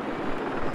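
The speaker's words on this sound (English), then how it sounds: "I'll spawn a transport chopper in 5 seconds" Transport helicopter in the Battlefield 4 video game, a steady broadband rotor and engine roar held close and loud for under a second, with no talk over it.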